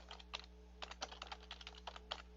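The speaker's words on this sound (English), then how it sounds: "we'll type in British bomb Berlin" Quick, light clicks of a computer keyboard as a search is typed, a short close burst of keystrokes in uneven rhythm over a faint steady hum.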